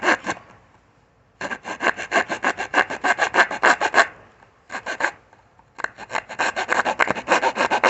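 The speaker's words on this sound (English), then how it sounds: "This is a hacksaw blade" Half of a broken hacksaw blade cuts through pallet wood in fast, rhythmic rasping strokes, grouped into several bursts with short pauses between, close and fairly loud with no voices.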